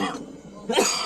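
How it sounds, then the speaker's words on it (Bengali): A person with a cold coughs close by in a bus body-building garage, a short rough cough followed by a harsher burst. "অনেক কাশি আছে"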